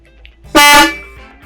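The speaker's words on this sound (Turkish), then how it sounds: "Bu kesik kesik basabileceğimiz bir korna." A single loud car horn blast, short and harsh, from a horn designed for short bursts, preceded by faint background noise and a quick decay afterward.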